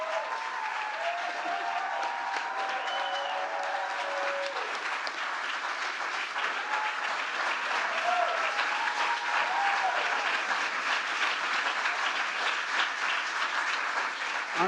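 An audience applauds at a presidential remarks event, a long, steady stretch of dense clapping at even volume, with faint cheers and voices briefly rising over it near the start.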